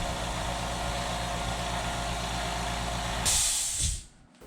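California Air Tools quiet air compressor running with a steady, low, throbbing hum that ends in a brief loud hiss of released air and then near silence.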